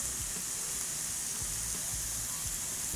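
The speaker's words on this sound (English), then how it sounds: "Going in with our onions. And I'm just gonna saute this for about 30 seconds or so." Onions and carrots sautéing in hot oil in a wok give a steady, loud, close sizzle and hiss, with a few soft low knocks from stirring underneath and no talking.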